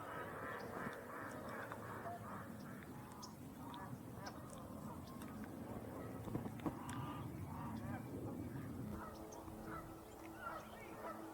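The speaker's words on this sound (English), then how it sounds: "there were numerous Canada geese here" Canada geese honk in a Southern California park, a faint scattered series of nasal calls from a small group on the water, heard at a distance over steady background ambience.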